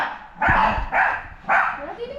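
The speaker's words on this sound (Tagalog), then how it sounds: "Hoy, mga aso." Dogs bark three times in loud, evenly spaced bursts, close by, with faint voices in the background.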